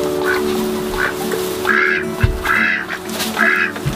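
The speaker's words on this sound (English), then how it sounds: "The ducks love the water." Ducks quack in short repeated bursts, several birds calling close by over a steady background hum.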